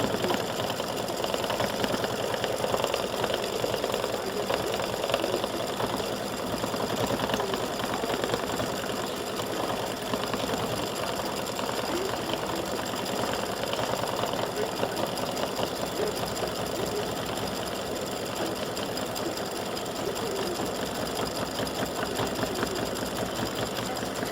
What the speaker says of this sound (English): It's getting ready to do the satin stitches around the shamrock